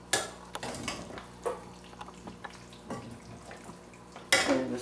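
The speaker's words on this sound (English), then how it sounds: "At this point I put the gizzards. I mix them well" Chicken gizzards being stirred into curry sauce in a cooking pot, with a few scraping clinks of utensil on metal and soft wet sloshing, close and fairly quiet, ending in a louder clatter.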